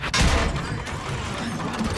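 An artillery shot in a video game: one sharp, heavy boom near the start, then a noisy rumbling decay with no voices.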